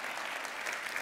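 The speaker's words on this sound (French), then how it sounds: "un petit applaudissement, si vous voulez bien" Conference audience applause, a dense steady wash of clapping hands from a crowd, continuous and moderately distant for a brief moment.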